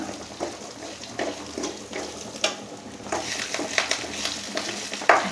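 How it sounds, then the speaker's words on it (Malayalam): Coconut pieces sautéed in a pan until brown for a beef fry, with a steady soft sizzle broken by repeated scraping strokes of a spoon stirring, close and moderately loud. "ഈ തേങ്ങ ഇതിനകത്തിട്ട് ഇതൊന്ന് ചെറിയ മൂത്ത കളറ് അതായത് ഒരു തേങ്ങയ്ക്കൊരു ചെറിയ ബ്രൗൺ നിറം ആവുന്നത് വരെ നമുക്കൊന്ന് വഴട്ടാം"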